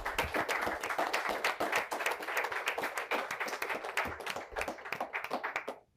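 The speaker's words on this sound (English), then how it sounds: "Ladies and gentlemen, a round of applause for CZITT." An audience claps for a team at a secondary schools climate quiz, individual hand claps crisp and distinct in a fairly small crowd, steady for several seconds and then tapering off quickly at the end.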